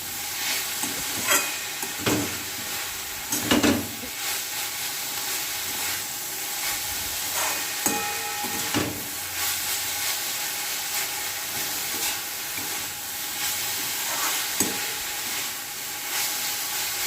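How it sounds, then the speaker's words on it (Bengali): Greens hiss and sizzle in a hot pan while a spatula scrapes and tosses them at irregular intervals, no talking. "দিয়ে এবার এটাকে ভালো করে নাড়াচাড়া করে ভেজে নেব"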